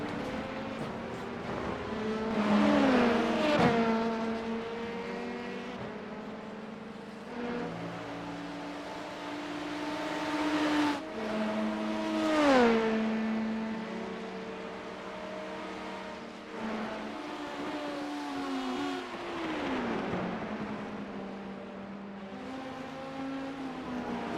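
An LMP2 prototype race car engine roars in the iRacing sim during an IMSA race, loud and close throughout, climbing in pitch and then dropping sharply at each of several gear shifts, with no voices.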